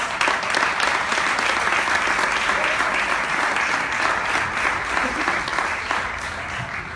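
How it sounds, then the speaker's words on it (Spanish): A church congregation claps hands in praise during a Spanish-language evangelical service, loud continuous clapping from many people filling the whole seven seconds and easing slightly toward the end, with no voice on top. "le damos palmas de alabanza al Señor"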